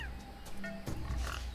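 A pig's oink from a well puzzle in the video game Tales of Monkey Island, a brief synthetic grunting call lasting about a second and a half, fairly loud against a faint game backdrop.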